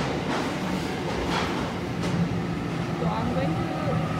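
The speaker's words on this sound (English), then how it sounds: "And my train is here," A train pulls into a station in Sydney, its steady low rumble and hiss filling the platform while voices carry faintly over the din.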